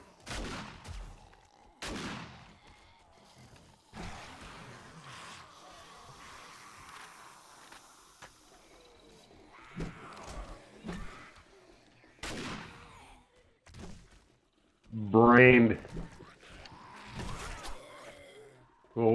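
Gunshots fired at a zombie horde on horde night in 7 Days To Die, sharp cracks spaced irregularly across a quiet stretch, with a few louder bursts near the end.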